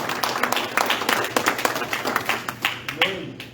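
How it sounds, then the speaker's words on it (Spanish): A church congregation gives a big round of applause during a sermon: lively, close clapping with some sharp individual claps over a busy crowd wash, fading out near the end. "Den un aplauso grande, mi hermano."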